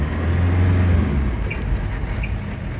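A motorcycle engine rumbles close by, a steady low drone with slight revving on a road where tigers are nearby, continuous throughout with no speech.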